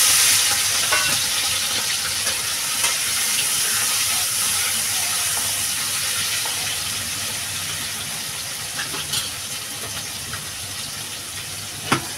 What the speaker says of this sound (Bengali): আমার তেলটা গরম হয়ে গেছে, চিংড়ি মাছটা ঢেলে দেবো।